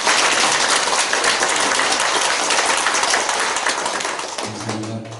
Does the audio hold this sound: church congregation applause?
yes